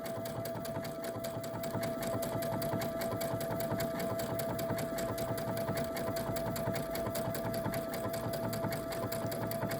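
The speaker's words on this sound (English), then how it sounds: "So now we've restarted our stitch." A sewing machine stitches an appliqué heart for an owl pin cushion, a steady, fast mechanical whir with a constant high hum running evenly and close throughout.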